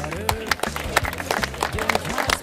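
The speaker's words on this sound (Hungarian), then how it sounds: "nagy tapsot kérnék szépen Rudolf Tamás, spártai hősnek!" Crowd applause at a road race in Bagod as a runner finishes, steady close clapping with sharp individual claps throughout, under a loud amplified announcer speaking.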